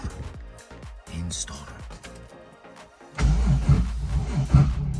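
A Toyota Supra with a weak battery cranks and fires, breaking into a loud, rough running engine for the last two seconds, after a stretch of voices talking over quieter mechanical noise.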